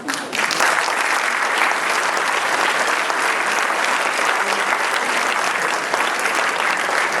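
Audience applause greeting panel guests at a 2012 US election discussion at Amerika Haus in Munich, a steady, dense clapping that holds at full strength for several seconds with no talk over it.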